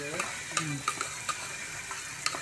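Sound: ginger garlic paste sautéing in a pan

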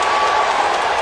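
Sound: basketball arena crowd cheering and applauding

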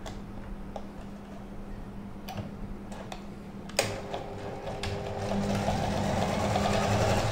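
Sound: sewing machine stitching shirt pocket seams

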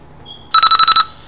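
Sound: PSP alarm ringing

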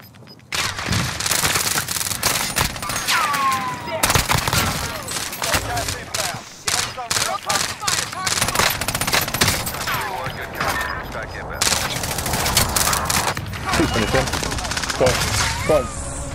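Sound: gunfire in a video game

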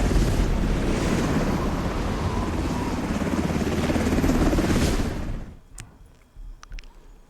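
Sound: helicopter in the video game Delta Force Hawk Ops

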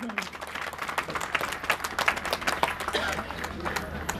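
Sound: applause at annual athletic meet

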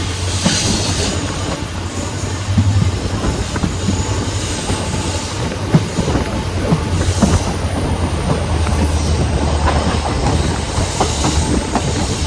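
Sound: Velankanni Express train running near Sivakasi station

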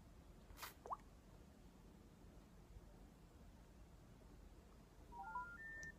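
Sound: telephone dialing a number

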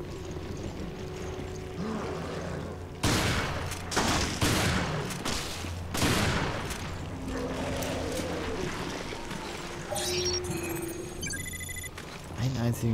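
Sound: gunfire in a video game

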